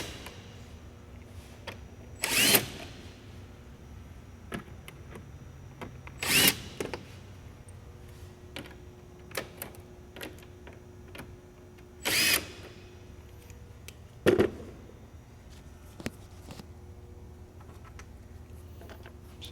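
Power tool gun backing out bumper bolts on an Audi A4, several short loud bursts spaced a few seconds apart over a quiet background with light handling noises.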